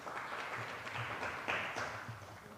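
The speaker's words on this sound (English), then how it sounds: "Clap for him, please." An audience claps together in a steady patter of applause, fairly soft and heard from a distance in a room.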